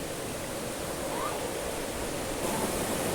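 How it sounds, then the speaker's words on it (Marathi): A waterfall in the countryside, heard as a steady, dense rushing roar that holds unchanged and fairly loud throughout, with no voices standing out. "मस्त धबधबा, राघव तिथं पाण्यात खेळतोय"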